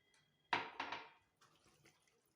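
A cup of broth poured over chicken in a pan gives a brief splashing gush, close and faint, followed by a couple of quieter trickles and small clatters.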